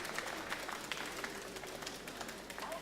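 Crowd applauding at a world championship table tennis match in China, a steady wash of many hands clapping with scattered louder claps, filling the hall throughout.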